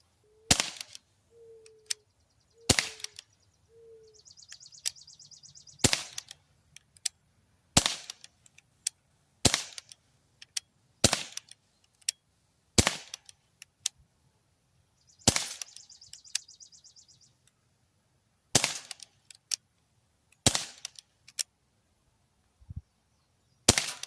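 An Umarex Smith & Wesson M&P 40 .177 CO2 pistol fires a magazine at 7 yards, about fourteen sharp, loud pops in an uneven rhythm roughly a second or two apart, with faint birdsong between shots.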